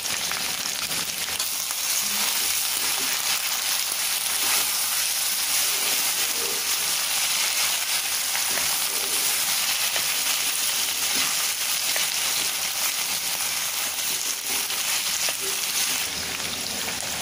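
Continuous crackling sizzle of potatoes frying in a pan over medium heat, steady and close, with no talking.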